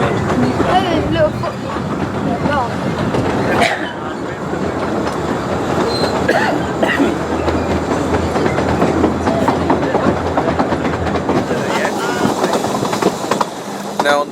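Heritage railway train runs along an open marsh section, a continuous rumble with rhythmic clickety-clack of wheels over rail joints and occasional wheel squeal, heard from on board with people talking throughout.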